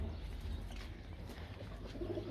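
A flock of around fifty pigeons coos softly in a low, steady murmur, the throaty calls overlapping continuously and close by.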